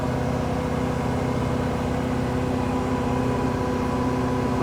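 A tractor engine runs steadily nearby, a constant low rumbling drone with a mechanical whine layered on top.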